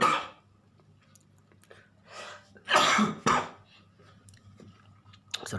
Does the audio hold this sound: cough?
yes